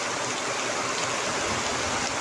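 Floodwater after heavy rain rushes through streets on the island of Limnos, a steady loud roar of flowing water.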